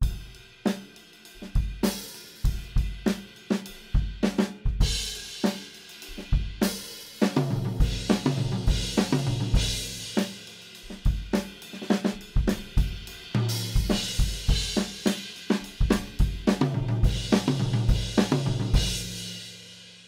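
Drum kit playing a groove with repeated fills, snare and tom hits tumbling in rhythmic bursts over cymbals, close and loud with no voices.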